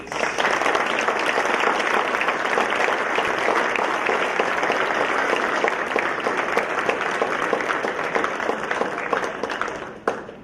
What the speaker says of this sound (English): a round of applause for this year's inductees